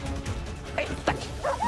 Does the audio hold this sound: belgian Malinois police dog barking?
yes